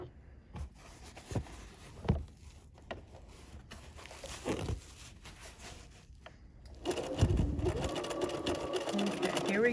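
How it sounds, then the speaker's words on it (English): Scattered soft taps and handling noises come first, then a sewing machine starts stitching fabric for a storage box, a steady close mechanical whir that runs alone to the end. "I'm lowering my presser foot, and now we're going to stitch a few stitches"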